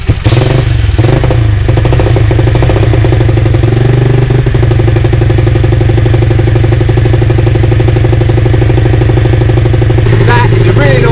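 A four-stroke motorcycle engine with a carburettor idles loudly and steadily up close, a deep rhythmic thrum that holds an even pitch throughout.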